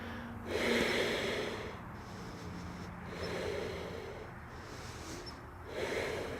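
Slow, steady breaths during a yoga pose, each inhale and exhale rising and falling in soft broad waves about every two seconds, close and alone with no talking.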